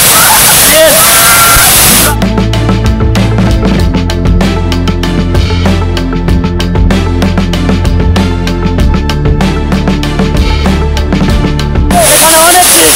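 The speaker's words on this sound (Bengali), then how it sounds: "ঝর্ণার ফ্লো অনেক বেড়ে গেছে, একদম নাজেহাল অবস্থা।" Risang waterfall in Khagrachari, swollen after heavy flow, roaring as a loud continuous rush of water, with voices talking over it in the middle stretch.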